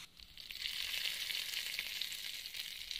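Hot garlic tadka hitting a bowl of yogurt, giving a steady close hiss of sizzling that holds evenly from start to finish with no talking.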